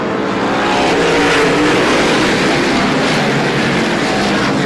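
Loud, continuous roar of 125cc race cars running side by side at Star Speedway, engines droning together close by without a break.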